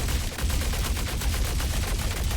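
The Fresnel Volt LMG fires a sustained, rapid automatic burst in a video game, each shot landing in an even, fast rhythm, loud and close without pause.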